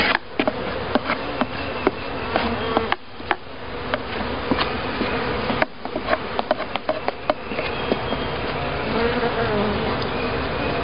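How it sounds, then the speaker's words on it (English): Honeybees buzz around an opened beehive as the lid is brushed, a steady close drone broken by sharp clicks and knocks of handling, with no talking. "I don't know if you can hear the bees,"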